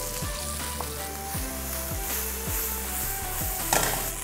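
Green chilies sizzle in hot oil with white spring onion parts, a loud, steady hiss and crackle over a low repeating hum, with a brief flare near the end.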